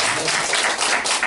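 Congregation applauding during a Sunday morning church service, a dense steady wash of clapping hands that fills the whole moment without pause.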